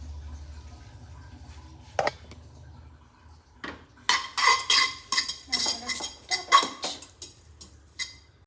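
A utensil clinks and scrapes against a dish while spicy Korean-style Maggi noodles are mixed, with a sharp knock early on, then a burst of quick clattering strokes, close and fairly quiet, no talk.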